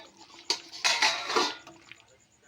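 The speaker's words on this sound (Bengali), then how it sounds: "ঢাকাটা খুলবো" A lid lifted off a cooking pot of snakehead fish curry, giving a sharp metallic clank followed by a short burst of rattling and scraping, then a few faint clinks as it settles.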